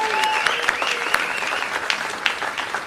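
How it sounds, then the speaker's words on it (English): Audience applause at a county party chairs' brunch, steady clapping from a crowd that carries on for a few seconds, fairly close and full. "Let's give them a round of applause."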